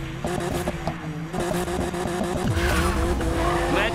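Race cars in Need for Speed Payback roar with loud, continuous engine noise while tires squeal and skid, the layered revving and screeching filling the whole stretch.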